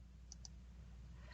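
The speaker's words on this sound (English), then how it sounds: "So when I click on this drop-down," Two quick, crisp computer mouse clicks on a software drop-down menu, close and faint against a quiet background hum.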